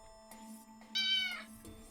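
A cat meows a few times, one clear, fairly loud meow in the middle between softer sounds, against a quiet background with a faint steady hum.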